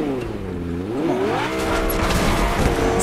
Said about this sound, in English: This car making too much noise.